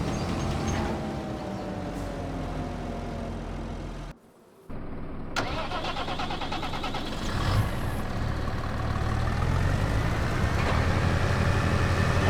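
A large tractor in the Farming Simulator 25 video game runs with a loud, steady engine drone whose pitch slowly climbs. The sound cuts out briefly near the middle, then returns and grows slightly louder toward the end.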